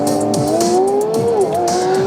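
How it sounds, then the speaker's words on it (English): Porsche GT3 RS at speed with a high, rising exhaust wail that dips briefly and climbs again, loud and continuous, with tire noise and road rumble beneath. "What an exhaust note."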